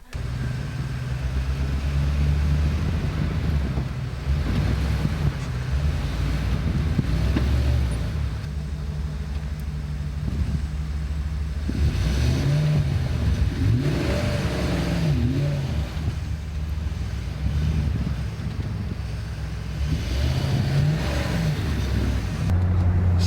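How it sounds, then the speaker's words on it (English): A truck camper's engine roars and revs steadily while it drives and drifts on snow on a first snow day in Victoria, BC, loud and continuous with the rumble rising and falling. "We're going to go see if the truck camper can drift in the snow without flipping."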